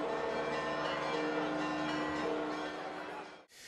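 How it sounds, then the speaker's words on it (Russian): Church bells peal at an Easter service, a dense, continuous wash of ringing mixed with crowd noise that stays loud throughout and cuts off abruptly near the end. "Колокольный перезвон заглушается пасхальным приветствием."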